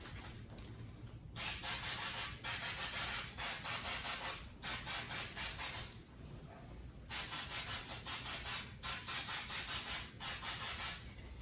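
Small cosplay pieces get sprayed red with an aerosol can, a series of close hissing bursts a second or two long separated by brief gaps, set against a quiet room.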